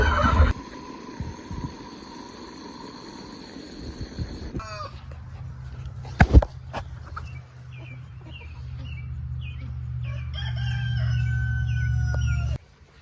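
Chickens, ducks and turkeys calling inside a farm coop, with steady crowing, clucks and gobbles layered over low background rumble, fairly close and continuous, no talk.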